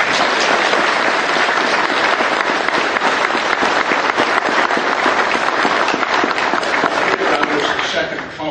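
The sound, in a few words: audience applause for the band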